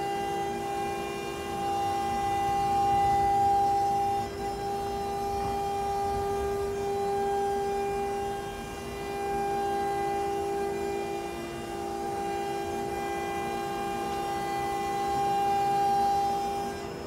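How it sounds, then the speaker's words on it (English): A CNC router cuts the rail and stile profile and the chamfer on a one-piece raised panel door, giving off a loud, steady high-pitched whine that holds constant with slight swells in level throughout. "I'm going to tie this in with cutting the detail for the join between the rails and styles, and also the chamfer around the outside"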